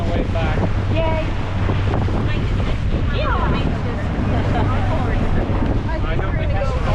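Waves break and wash along an exposed coastline off Lo Island, Vanuatu, heard from a small boat, with steady wind buffeting the microphone and engine rumble underneath, while people talk faintly at intervals.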